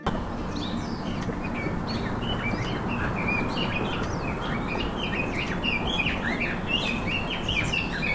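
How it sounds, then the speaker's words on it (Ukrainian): Small sparrows chirp repeatedly in a busy outdoor chorus, short bright calls scattered over steady background noise with no talking. "Так, це горобчик. А як він співає?"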